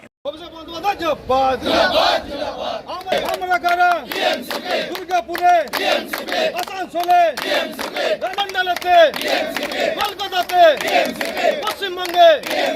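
A crowd of Trinamool student activists at Asansol railway station chanting slogans in loud rhythmic unison, call-and-response voices repeating steadily and close throughout.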